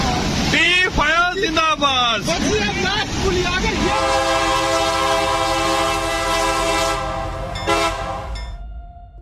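A train rumbles past with a sustained, loud horn blast holding steady tones; voices chatter briefly at the start before the horn takes over.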